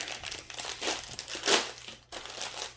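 Plastic sticker sheets for Halloween goody bags are peeled and handled close up, giving a continuous crinkly crackle with a louder crunch near the middle and a short pause before the rustling resumes.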